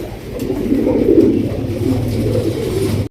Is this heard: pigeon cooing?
yes